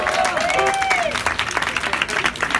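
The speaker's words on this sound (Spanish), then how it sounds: "Un aplauso para Angélica Infante." An audience applauds for Angélica Infante at an awards ceremony honoring women rock and blues musicians, a steady dense patter of clapping mixed with cheers and a voice over it.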